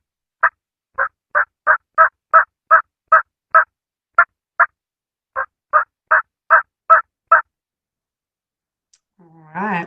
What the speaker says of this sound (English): Yes, it is a turkey.